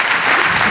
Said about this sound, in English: we want to give a round of applause for that.